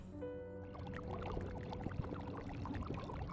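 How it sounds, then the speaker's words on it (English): Bubbling, gurgling liquid in the Genshin Impact video game, steady and fairly loud throughout, with sustained musical tones at the start. "I don't like that bubbling sound"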